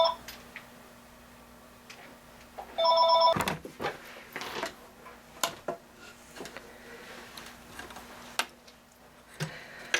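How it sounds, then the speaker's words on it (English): A telephone rings once in a short, bright burst indoors at a scrapbooking table, surrounded by quiet clicks and small handling noises. "And the phone rings."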